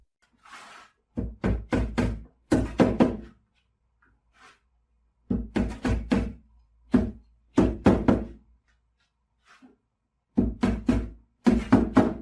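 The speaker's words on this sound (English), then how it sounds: "we fasten the block with nails through every other spring" Nails are hammered by hand to fasten a sofa spring block. The blows come in loud, close clusters of three to five sharp knocks, separated by pauses of near silence.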